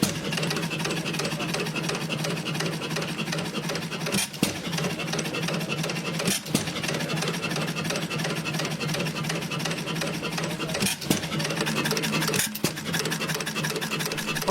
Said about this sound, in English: Built as a petrol engine, it features robust cast iron construction and a simple low-speed design focused on reliability